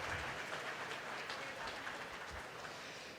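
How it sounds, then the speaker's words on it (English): Round of applause for exhibitors at a market lamb show, a fairly faint, diffuse patter of clapping in a large space that tapers slightly toward the end. "let's go ahead and give all the exhibitors for the Lamb Show this morning a big round of applause"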